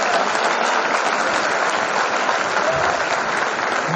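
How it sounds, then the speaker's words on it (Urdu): Sustained applause from a mushaira audience in a hall, dense steady clapping that continues loudly without a break, with no voices standing out. "میں چاہوں گا کہ پورا سدن بھرپور تالیاں بجا کر اپنی شبھکامنائیں ہمارے نواز بھائی تک پہنچا"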